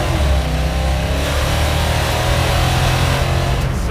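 A Plymouth Cuda running nitrous oxide revs loudly and continuously on a test ride, its mid-pitched engine note surging and droning steadily throughout with no speech over it.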